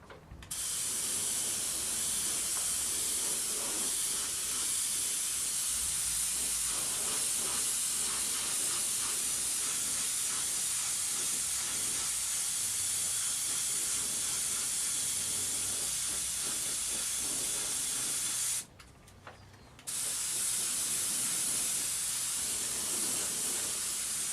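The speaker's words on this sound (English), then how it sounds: "I'm spraying right next to the TDM that I've just sprayed" Continuous hissing of a spray gun spraying single-stage enamel paint, steady and close, broken by one brief pause near the end before the spray resumes.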